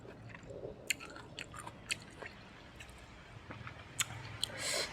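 Crunchy green mango dipped in sweet fish sauce is chewed close to the mic, with soft, repeated bites and crisp crunches scattered through quiet moments.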